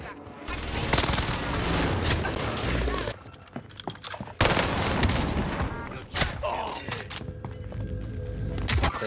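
Rapid bursts of PPSh hipfire from Warzone ring out loud and dense in repeated volleys, with brief pauses between strings of shots and a steady game background underneath.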